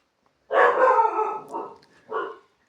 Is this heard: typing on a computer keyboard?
no